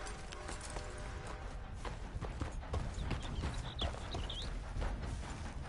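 Horse hooves clip-clopping at a steady walking pace in the video game Red Dead Redemption 2, heard over a dense, continuous outdoor ambience with faint birdsong; no voices.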